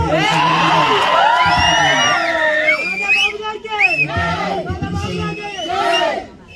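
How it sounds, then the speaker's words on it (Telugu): A political rally crowd for Vangaveeti Mohana Ranga roars, whoops and shouts loudly, with overlapping high-pitched cries rising and falling in waves, close and dense throughout. "ఈ అరుపులు, కేకలు, గాలులు"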